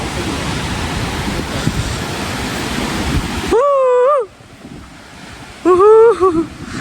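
Rushing water at Kumbhe waterfall in monsoon-season Maharashtra, a dense continuous roar filling the first half, then softer background water as voices and a sliding whistle-like call break in.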